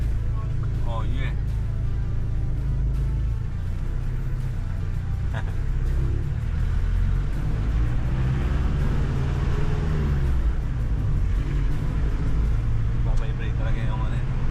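A Mitsubishi Adventure's engine and exhaust rumble steadily through a test drive, a constant loud low drone with faint higher whine, while people talk over it.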